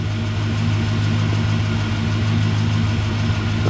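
A car engine idles steadily with a deep, even hum and steady vibration during a 4L60E transmission torque converter lockup solenoid test, loud and close with no change in tone and no talking.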